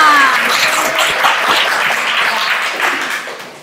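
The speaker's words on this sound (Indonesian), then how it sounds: "Oke, tepuk tangan buat kita semua." A school class bursts into loud, dense applause, many hands clapping at once close by, then fading toward the end.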